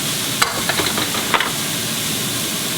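Fresh sliced garlic sizzles steadily in a pot, a loud continuous frying hiss broken by a few sharp clicks of a utensil against the pot near the start.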